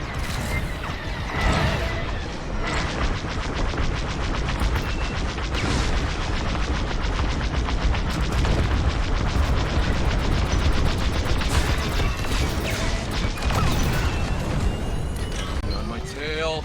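Starfighter laser cannons firing in a Star Wars space-combat game during a dogfight with TIE fighters, rapid repeated bursts of shots over a constant roar of engines and effects, with voices talking intermittently.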